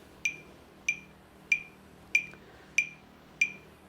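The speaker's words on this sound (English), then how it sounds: "See how when it beeps, I step?" Electronic pace beeper for walking while calibrating a backpack sprayer on a lawn: six short, sharp beeps at an even rhythm about every 0.6 seconds, fairly faint against a quiet background.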